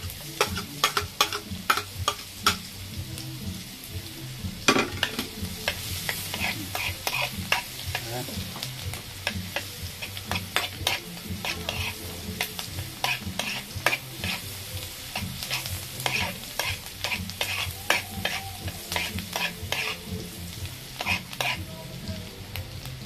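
Garlic and onion sizzle and fry in a pan while being stirred with a spatula, a steady close crackle broken by frequent sharp scraping taps.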